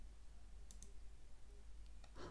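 Left mouse button clicks from a computer during video-editing work, a few short faint clicks spaced irregularly over a quiet room background with no talking.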